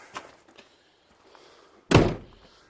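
A truck camper door shuts with one loud, solid thunk after a few faint knocks and rustles, close by and otherwise quiet.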